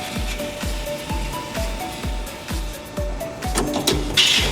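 A C&U roof ceiling roll forming machine produces 90 mm wide steel studs, its steady mechanical drone broken by a regular thumping punch or cut about every half second, with a brief high hiss near the end.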